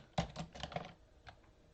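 Fingers tap a computer keyboard in a short flurry of close, quick keystrokes, then a couple of lighter isolated clicks as it tapers off.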